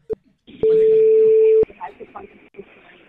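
An incoming call on a Spanish-language radio show comes through as a single steady tone lasting about a second, with a short click just before it. Voices talking over the phone line follow.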